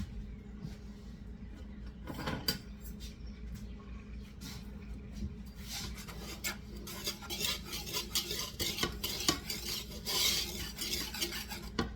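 Blueberry kuchen ingredients being mixed in a bowl, with steady scraping and stirring that grows busier and more textured halfway through, close and alone with no talk.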